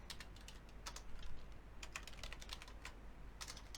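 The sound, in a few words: typing on a computer keyboard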